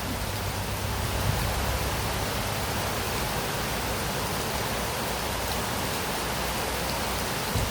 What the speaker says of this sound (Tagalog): Enjoy the rain, bird.